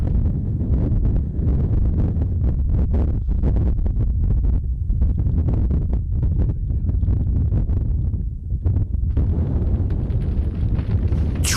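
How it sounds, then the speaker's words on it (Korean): Strong wind roars across the cold Siberian steppe where Mongolian nomads herd livestock, a loud, continuous buffeting rush that batters the microphone throughout. "눈보다 견디기 힘든 게 바람입니다. 그렇지 않아도 추운 날씨에 바람이 불면 체감 온도가 급격하게 떨어지죠."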